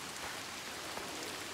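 Steady rain falling in Senua's Saga: Hellblade 2, a dense, even hiss of drops hitting surfaces with no pause, close and enveloping, with no voices.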